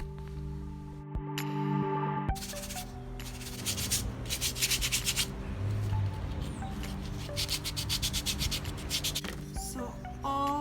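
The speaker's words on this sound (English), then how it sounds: "Coarse sandpaper and a smooth sandpaper." Cement coasters being rubbed smooth with coarse and fine sandpaper, steady scratchy strokes in repeated bursts, close and moderately loud, with some background hum and clicks.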